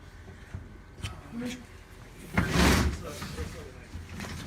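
A compartment door on a Rosenbauer tanker pumper fire truck is rolled and shut with a loud rattling slam midway, with light clicks and knocks around it while someone talks.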